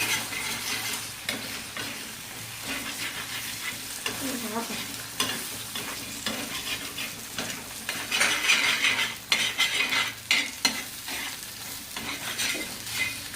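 Eggs fry in oil in a pan for Maharashtrian egg bhurji, a continuous close sizzle with stirring and scraping of a utensil against the pan, growing louder and busier toward the end.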